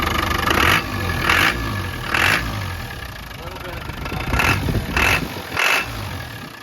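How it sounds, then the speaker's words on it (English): A 1992 Land Rover Defender 110 200Tdi diesel engine runs smoothly at close range, a steady clattering idle with a rhythmic pulsing beat and a few brief swells, while a person speaks over it. "Motor's running real smooth."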